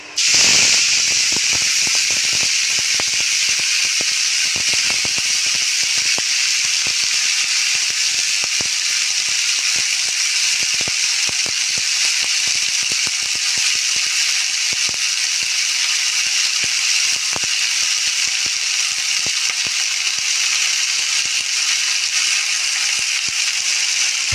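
Red amaranth greens hit a hot pan in a Bengali home kitchen, giving a loud, steady sizzling hiss that runs unbroken for the whole stretch, with faint clicks scattered through it and no talk.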